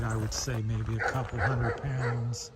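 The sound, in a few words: dog barking in background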